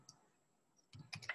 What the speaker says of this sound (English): Okay, I'm gonna type in here